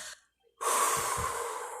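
A person exhales forcefully and audibly near the microphone in one long breath out, after a short earlier puff, demonstrating respiration in a children's science lesson.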